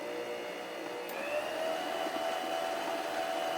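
Electric stand mixer kneading buttery dinner roll dough, a steady motor whine that rises in pitch about a second in as the speed goes up, continuous and close with no talking.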